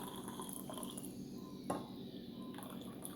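Soursop tea poured into a cup indoors, a faint, steady liquid trickle running the whole time with a brief louder splash near the middle.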